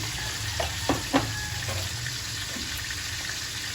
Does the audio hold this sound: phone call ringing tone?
no